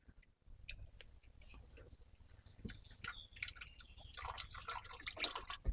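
Engine oil drains from the oil pan of a 2016-23 Mazda CX-9 with the Skyactiv turbo engine, giving faint, irregular drips and trickles that build into a busier splatter toward the end.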